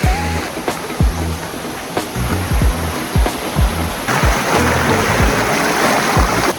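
A strong river current rushes loud and close in a constant broadband roar, with repeated low buffeting thumps beneath the flow and no voices.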